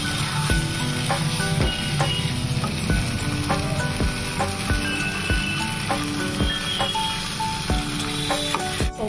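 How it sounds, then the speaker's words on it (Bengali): Vegetables and spice masala fry in a hot wok, a loud, steady sizzle running throughout with repeated sharp clinks and scrapes of a spatula stirring, and no voices. "তো আমি এখন দিয়ে দিয়েছি মশলাটা, দিয়ে এটাকে খুব ভালোভাবে কষিয়ে নেব।"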